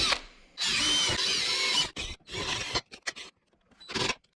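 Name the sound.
drill with a small bit drilling a Jeep pillar pod mount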